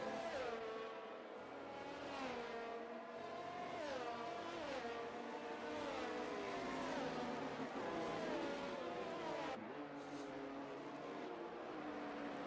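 Race cars from a racing video game roar through a warm-up lap behind a leading Aston Martin at COTA, with a steady, loud engine drone and revving pitch sweeps rising and falling, plus a brief burst of higher noise near the end.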